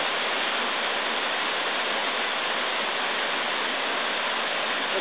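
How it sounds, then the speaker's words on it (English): Waterfall in White Oak Sinks, a steady, dense rush of falling water that stays even and unbroken throughout, heard alone and fairly close. "the best thing in it is the waterfall"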